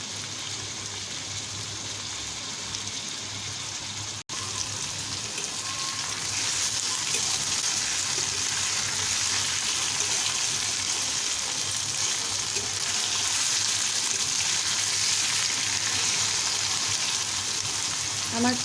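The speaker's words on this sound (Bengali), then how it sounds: "এখন আমি ভাজিটাকে এরকমভাবে 2 থেকে 3 মিনিটের জন্য ভেজে নিব।" Malabar spinach (puishak) fried with potato in a pan gives a steady, fairly loud sizzle that holds throughout, with soft stirring scrapes, a brief dip near the start and no talking.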